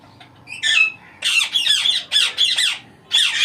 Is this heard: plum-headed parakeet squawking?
yes